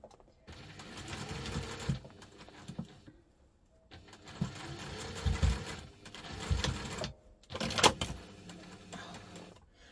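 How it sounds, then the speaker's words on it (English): A sewing machine stitches a seam on a double compartment crossbody bag in three bursts of rapid mechanical whirring, separated by short pauses, close and fairly quiet. "going to stitch across here with the seam allowance in the pattern"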